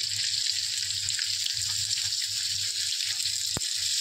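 Cumin seeds, chopped garlic, grated ginger, green chilli and onion fry in a pan over the gas, giving a steady, dense sizzle throughout with a soft low rumble and one sharp clink near the end; no voices.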